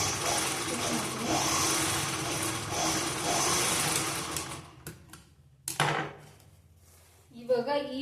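A domestic sewing machine runs steadily while stitching tucks on an unlined blouse, a loud, continuous mechanical whirr for about five seconds, then short bursts before it stops and a voice takes over.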